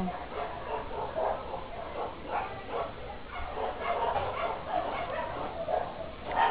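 Small dogs yip and bark intermittently in a street setting in China, fairly close and mid-level, mixed with a continuous bustle of background noise throughout.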